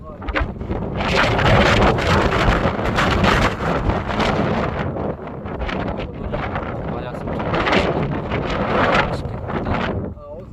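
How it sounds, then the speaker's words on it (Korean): Strong wind gusts buffet the microphone at the Seoseokdae summit of Mudeungsan mountain, a loud continuous roar that swells and eases in waves across the whole span, with a voice faintly audible beneath. "바람이 너무 많이 불어가지고"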